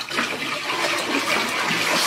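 Water splashes and sloshes steadily for about two seconds as a fish is put into a water tank. The sound is close and dense, with no talking.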